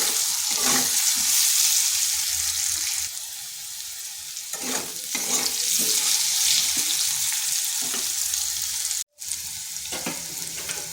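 Potatoes fry in a pan with a continuous close sizzle, broken by stirring scrapes and clatters and one brief dropout near the end.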